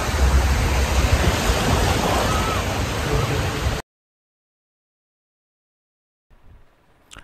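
Broad steady rushing of sea waves, loud and close, then cutting to silence before a brief faint rustle at the end.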